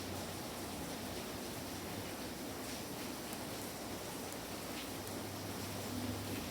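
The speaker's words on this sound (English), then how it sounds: "But ignore the lashing rain in the background" Heavy lashing rain pours down steadily as a dense, unbroken hiss that fills the whole stretch at an even level, with no voices over it.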